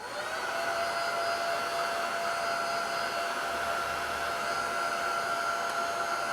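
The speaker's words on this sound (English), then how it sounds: "I'm going to take a dryer to that again." A hair dryer blows steadily and loudly for several seconds over paper during an image transfer, a constant whirring rush of air with a high motor whine.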